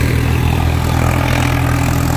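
A 1996 Swaraj tractor engine runs steadily at close range, a loud continuous low rumble with no talking over it.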